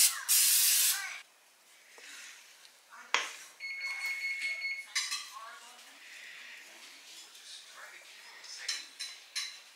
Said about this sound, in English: Spray your loaf pan or butter it.